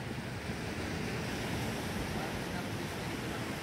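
Sea waves wash continuously on a shore at night, a dense, steady roar with wind buffeting the microphone, fairly quiet and unbroken throughout.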